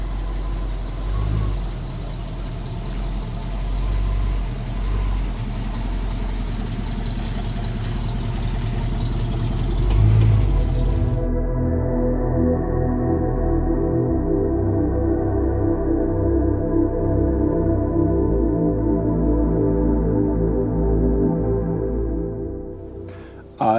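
1968 Mercury Cougar V8 idling through dual exhaust, a steady low rumble with a faint knock, recorded close, its tone changing abruptly partway through as the recording becomes duller, continuing to the end.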